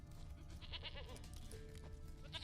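A goat named as a princess bleats in The Witcher 3: Wild Hunt, giving several short wavering cries over a soft ambient background, moderately near.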